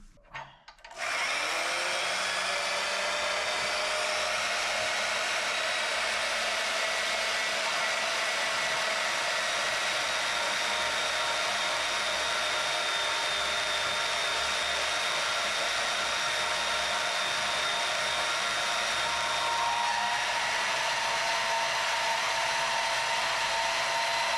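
A Bauer/Hercules bandsaw motor starts after a brief clunk, then runs as a steady, loud, continuous hum with a high whine layered over it for the whole stretch, with no talking.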